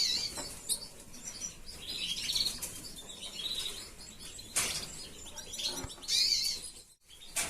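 Young buff canary-type chicks, offspring of a consort buff male and a crested buff female, chirp in bursts of high, thin cheeps with soft wing flutters, close and busy, with a brief quiet gap near the end.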